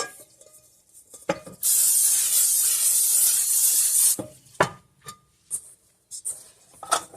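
A steady hissing spray of cooking oil onto a bowl sounds for a couple of seconds, close up, followed by a few scattered knocks and clatters.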